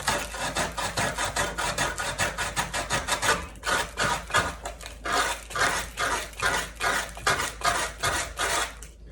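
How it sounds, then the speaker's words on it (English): Rhythmic back-and-forth strokes of sandpaper on a foam core shoe, close and steady, about two strokes per second, with no talking. "And I'm sanding this side, I'm sanding the inside, and I'm sanding the top here."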